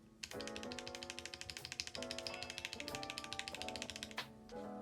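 Rapid, even typing on an ID80 Crystal Edition mechanical keyboard fitted with PBT keycaps, a dense run of close, crisp keystrokes with slight pauses, alone with no talk.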